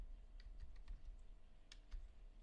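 Fingers tap out a short burst of keystrokes on a computer keyboard, quick soft clicks in an irregular rhythm, faint and close, over a low steady room hum with no talk.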